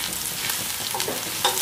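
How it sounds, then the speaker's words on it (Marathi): Finely chopped onion fries in a pan over low gas, a continuous close sizzle with a few stirring scrapes. "एक कांदा मस्त असा बारीक चिरून घेतला आहे, कांदा नरम होऊ द्यायचा।"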